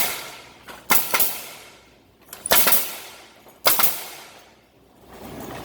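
Pallet nailing machine with a board positioner firing its nail guns in a workshop: three sharp, loud bursts of impact, each a quick cluster of bangs with a short decaying rattle, spaced about a second and a half apart.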